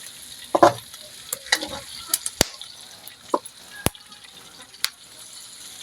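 Garlic frying in a pan while being stirred for a Batangas-style pork blood stew, a soft steady sizzle broken by scattered scraping stirs and sharp utensil clicks against the pan, close by.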